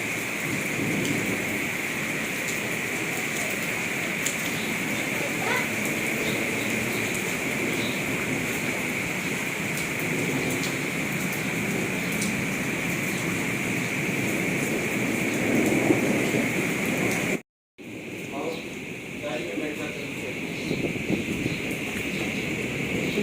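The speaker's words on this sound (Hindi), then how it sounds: "तो चलें जी थोड़ी सी बारिश की आवाज़ भी सुन लेते हैं।" Heavy morning rain falling outside, a dense continuous hiss of drops with distant thunder rumbling underneath, steady throughout apart from a brief cut near the end.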